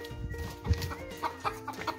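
A rooster clucks in short, close bursts while being herded into its coop. Several quick clucks come in an uneven rhythm over a quiet background.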